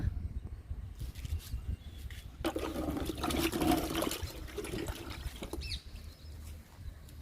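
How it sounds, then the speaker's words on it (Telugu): Homemade liquid fertilizer of dal, groundnut cake, tea powder and egg powder pours onto a sapota plant's soil, giving a close splashing trickle that swells in the middle and then fades. "సపోటా మొక్కకి లిక్విడ్ ఇస్తున్నా ఇంకొంచెం ఇస్తున్నా"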